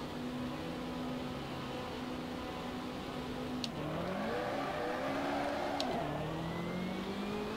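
A BMW GT3 race car in Assetto Corsa pulls away at an online race start, its engine droning and climbing in pitch, then dropping twice at sharp upshifts as it accelerates, steady and close with no talk.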